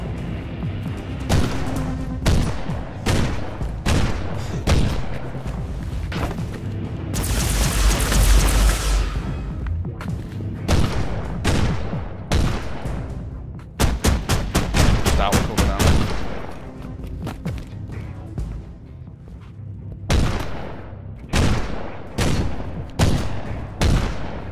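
Loud gunfire and explosions from the Warhammer 40K video game Inquisitor: Martyr: rapid repeated shots and bursts, with dense fusillades in the middle and later stretches and booming blasts throughout.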